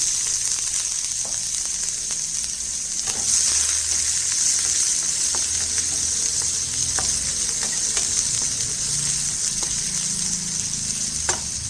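Onions sautéing in hot oil with fenugreek seeds, a red chilli and asafoetida for gongura dal, giving a steady bright sizzle and hiss with scattered small pops and faint stirring, close and continuous, no talk.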